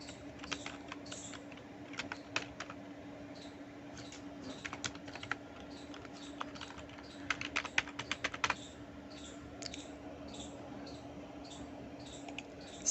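Fingers typing on a computer keyboard while entering an email address, quiet and close, with irregular soft key clicks and brief quick bursts of keystrokes over a faint steady hum.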